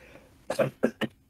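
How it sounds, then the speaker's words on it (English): Three quick, close coughs from one person, the first a little longer and the next two short and clipped, over a quiet room. "sorry, I had a cough."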